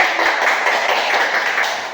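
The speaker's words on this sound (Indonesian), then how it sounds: "Oke, tepuk tangan." Group of children clapping their hands together after a sing-along in a classroom: a brief burst of close, fairly loud claps blending into a continuous patter.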